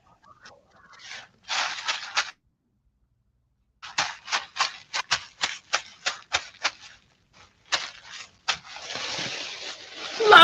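Tissue paper and bubble wrap are unwrapped close by, making crisp crinkling rustles in quick bunched bursts with short pauses between them, and ending in a longer, louder crackle.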